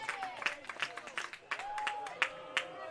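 Spectators at a college baseball game clap and cheer in quick, uneven bursts over a babble of crowd voices, lively and fairly close.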